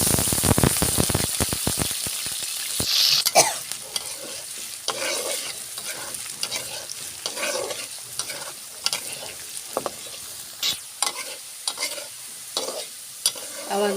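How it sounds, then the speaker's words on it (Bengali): Potato pieces fry in hot oil in a kadai, giving a loud, steady crackling sizzle throughout, with quick clattering stirs at the start and occasional louder pops later. "আলুগুলো ভেজে নেব।"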